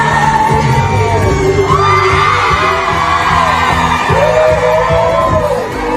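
A crowd aboard a Christmas cruise cheers and whoops while a man crowd-surfs through them, a dense, sustained roar of shouting voices with music or rhythmic thumps underneath, loud and continuous throughout.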